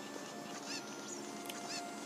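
Cucco chicken calls from Zelda Ocarina of Time 3D, a few short honking, clucking cries over steady game background music, moderately loud with no talking.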